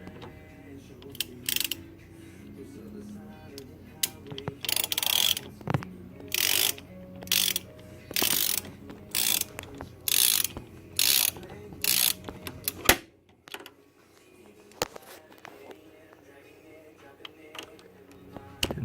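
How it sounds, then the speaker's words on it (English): A ratchet clicks in short, regular bursts at close range as it snugs down the nut on a RZR drive shaft, with a dozen or so quick strokes, then stops and leaves near quiet. "when you tighten it down, you just want to tighten it at first until it's snug"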